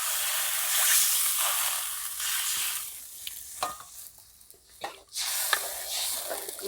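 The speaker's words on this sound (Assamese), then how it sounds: "আৰু এতিয়া মই ইয়াত যোগ কৰি দিম পানী।" Water poured into a hot pan of turmeric-spiced cooking, a loud hissing sizzle that starts strong, then fades into uneven bubbling with a few sharp spits and stirring sounds.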